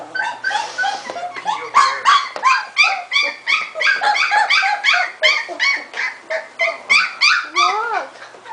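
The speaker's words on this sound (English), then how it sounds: "We're having a Ginger and a Sofie's puppy in here" A litter of 3.5-week-old puppies whimpers and yips continuously, a dense overlapping chorus of high, rising cries close by with no talking.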